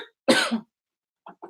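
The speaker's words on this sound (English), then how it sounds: "I'm coughing like a champion of life" A single harsh, close cough bursts out, followed after a pause by two short, softer throat-clearing coughs.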